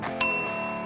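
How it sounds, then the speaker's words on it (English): A single quick bell ding strikes and rings with a short shimmering tail over a soft background tone. "if you hit this little notification bell"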